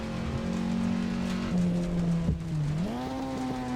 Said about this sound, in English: I meant to shift down to fourth and shifted to second